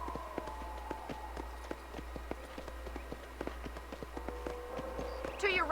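A powerful war horse in Red Dead Redemption trots along, its hooves clip-clopping in a steady, fairly faint rhythm under quiet ambience, with a brighter burst of sound at the very end.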